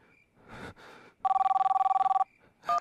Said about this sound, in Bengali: বন্ধ ফোনের রিং বাজছে